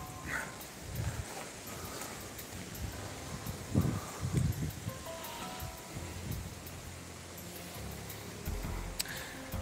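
Gusty wind buffets the microphone with rumbling, uneven bursts over a broad rushing noise, steady throughout.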